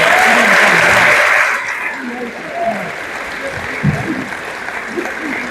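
Audience applause at a school district end-of-year awards ceremony, a dense wash of clapping for the first second and a half that fades into quieter room noise as a voice speaks over it.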